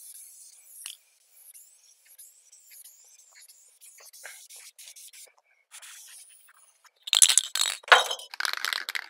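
A spray paint can lays light primer coats on the roll pan of a 1985 GMC Sierra pickup, sounding as several bursts of close, hissing spray near the end after quieter rattles and faint sounds.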